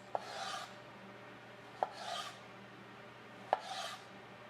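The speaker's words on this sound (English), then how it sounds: "I think I'm just gonna make some slices." A knife slices through a fresh mango three times at steady intervals, each stroke a sharp tap followed by a brief wet rasp, close and quiet.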